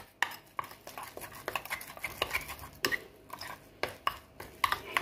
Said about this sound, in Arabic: كده عجناه بالميه المغليه